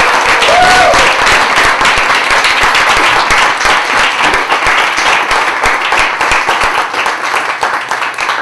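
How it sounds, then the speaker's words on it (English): A poetry-reading audience in New York applauds the poets with loud, steady, dense clapping throughout, the hand claps sharp and close, with a brief faint voice near the start. "I hope you will give a round of applause to our"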